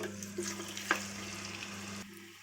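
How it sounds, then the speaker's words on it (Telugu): Marinated chicken fries in ghee and oil in a biryani pot, a moderate close sizzle with a few stirring scrapes and a sharp clink before the sound briefly drops off. "బిర్యానీ గిన్నెలో నెయ్యి, ఆయిల్, ముందుగానే మ్యాగ్నేట్ చేసుకున్న చికెన్"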